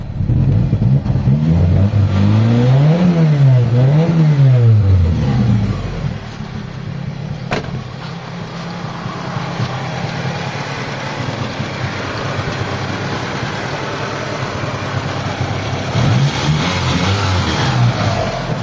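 A Mitsubishi Lancer's 4G67 engine, low on power, with a backfiring exhaust, misfire and a dropping idle, revs in repeated rising and falling surges close by, then settles into a rough, steady idle before revving again.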